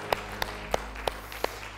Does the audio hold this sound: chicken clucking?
no